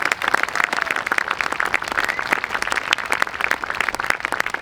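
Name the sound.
audience applause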